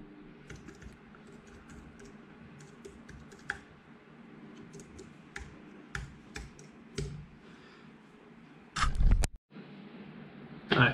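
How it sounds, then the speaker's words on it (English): Rapid keyboard typing, clicky and close, with short bursts and pauses, ending in a couple of louder bumps and thuds. "y'all can hear me typing and all that good stuff"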